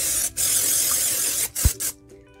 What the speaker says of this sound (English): I'm just going to spray my pan here with some cooking spray.